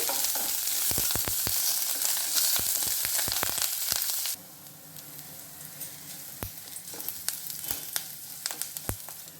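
Asafoetida sizzles loudly in hot oil for Mysore rasam, a dense crackling hiss broken by sharp spoon taps against the pan, then the sizzle drops to a quieter, steady bubbling with occasional clinks.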